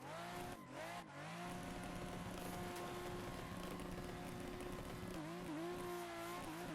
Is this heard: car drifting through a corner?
yes